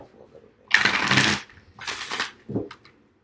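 Cards are shuffled in two quick riffling bursts close by, followed by a short softer flick.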